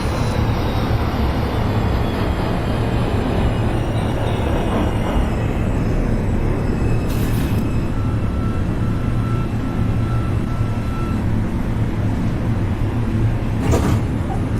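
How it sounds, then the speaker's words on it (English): A simulated New York City Subway R142 train on the 2 line runs through snow, giving a loud, continuous rumble and hum of wheels and traction motors with no voices over it. "This is a Manhattan-bound 2 train"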